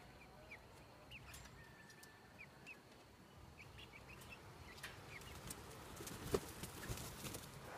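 Young hens in the morning make faint, scattered soft calls and brief wing flutters, quiet and fairly close, with a small rise of movement and clucking near the end.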